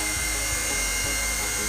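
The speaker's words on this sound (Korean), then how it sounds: "측면 호버링" A small RC helicopter holds a sideways hover, its steady high-pitched motor whine and rotor buzz running close and unbroken.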